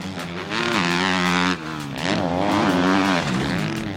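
A 2014 Suzuki RM-Z250 dirt bike revs hard on a ride, its engine note climbing in pitch, dipping briefly between shifts, then rising again. The loud, buzzy single-cylinder drone carries steadily with no talking.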